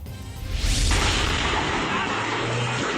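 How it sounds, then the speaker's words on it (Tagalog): An illegal fireworks factory in Cabuyao, Laguna explodes in a loud, sudden boom that swells into a sustained roaring rumble, heard from a distance with no talk. "Mala-eksena sa pelikula ang pagsabog na nakunan sa video sa Cabuyao, Laguna"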